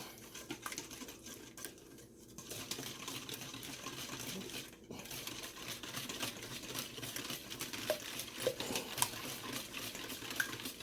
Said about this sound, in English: And we're gonna go ahead and mix this up. Mix this up real good.